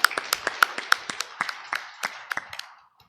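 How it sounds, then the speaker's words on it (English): A few people clap for kitchen staff at a temple gathering, sparse, distinct hand claps in an uneven rhythm, fairly close and quiet, tapering off after a few seconds. "Let me just give them a round of applause."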